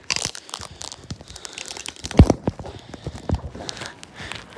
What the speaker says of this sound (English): I am getting taped up